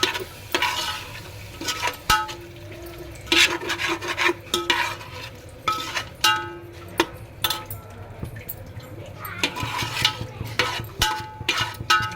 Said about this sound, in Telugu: పెరుగు వేసుకున్నాం కదా, కలిపేసుకోవాలి పెరుగు కూడా.